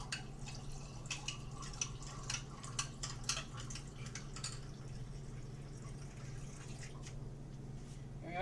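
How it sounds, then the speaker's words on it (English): Water is poured into a glass holding an apple cider vinegar and honey drink. Light trickling and dripping sounds run close by, with no talking. "So let me add some water."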